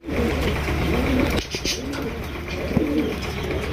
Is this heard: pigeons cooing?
yes